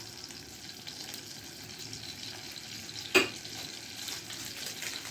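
Food sautéed in a pan gives off a steady, soft frying hiss that runs the whole time, broken once by a short, sharper clink near the middle. No one speaks.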